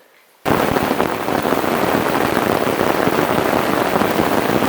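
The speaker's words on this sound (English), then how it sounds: "This rain is pounding down, huh?" Heavy downpour hammers a taut tarp over a hammock and net tent, a dense, loud, unbroken roar of drumming drops that starts abruptly after a brief quiet moment and continues without letup.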